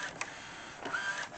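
An Epson XP 15000 printer printing DTF direct-to-film, a quiet mechanical whir with a couple of brief clicks and a rising motor whine as the print head moves.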